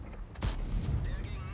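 A tank cannon fires in World of Tanks: one sudden loud boom with a rumbling, decaying tail that lasts about a second, heard amid game background noise.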